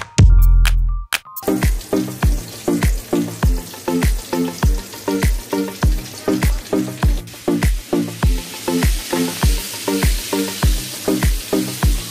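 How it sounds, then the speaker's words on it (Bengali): Chicken frying in a home kitchen pan gives a loud, close sizzle broken by a rapid, regular series of sharp clicks or taps running steadily throughout, with no talking. "চিকেন ফ্রাই বানাচ্ছে মা।"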